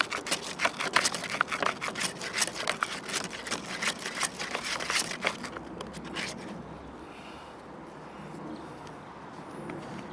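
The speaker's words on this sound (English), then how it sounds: "take the corner of your sandpaper, wrap it round it so it's holding it like a cone, and then just begin to rotate" Sandpaper wrapped into a cone is rotated around a handmade fishing float to taper it, giving a quick run of rhythmic rasping strokes for about five seconds before the scraping fades to near quiet.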